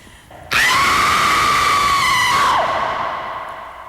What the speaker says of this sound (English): That's a pure horror scream.